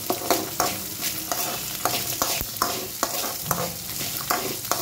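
Onions frying in a pan for hotel-style tomato chutney, with a steady close sizzle broken by regular rhythmic scrapes and stirs of a spatula against the pan.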